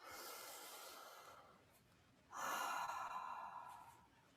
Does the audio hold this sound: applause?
no